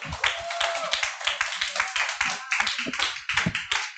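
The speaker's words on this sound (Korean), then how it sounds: "큰 박수 부탁드릴게요" Audience clapping at a company group meeting in Korea, dense irregular hand claps from a nearby crowd throughout, fairly loud and steady with no voices over it.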